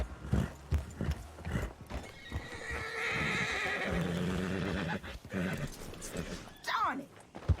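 A video game horse neighs and whinnies loudly several times, with hooves clip-clopping and snorts in between.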